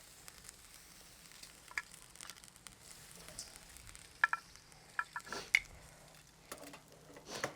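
Lemongrass pork chops sizzle on a barbecue in a faint, steady hiss, with scattered soft pops and crackles rising over the low grill noise, no talking.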